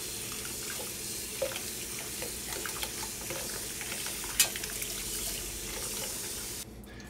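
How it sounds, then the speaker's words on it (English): Fresh tap water runs steadily while a trumpet is rinsed off, a constant close splashing hiss with a few small clinks, cutting out just before the end. "you just rinse it off with fresh water"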